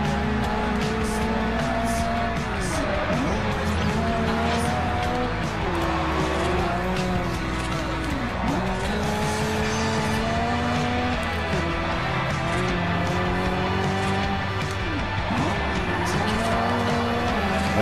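A race car engine roars continuously in the Forza Horizon racing game, its pitch rising and dropping with each gear change, with long screeching tire squeals through the turns. The whole stretch is loud and close.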